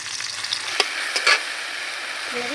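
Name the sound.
onions frying and being stirred in pan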